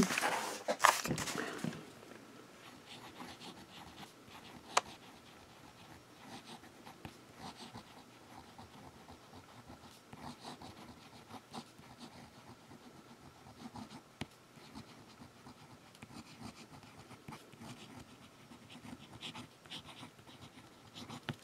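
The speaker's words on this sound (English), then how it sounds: "you'll be able to write on notebook paper" Online fountain pen nib writing across notebook paper, a soft continuous scratching that runs steadily for the length of the clip after a brief louder handling noise at the start, with no talking.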